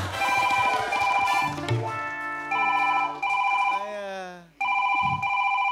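A telephone rings with repeated electronic tones and warbling bursts, fairly loud, heard in a comedy show scene alongside some background voice and music.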